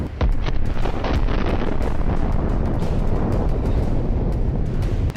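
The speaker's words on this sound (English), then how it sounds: "and we see a very large explosion." A large explosion from an FPV drone hitting an armored personnel carrier at its weak point, heard as a sustained, loud, roaring blast with crackling debris that fills the whole stretch, with no voices.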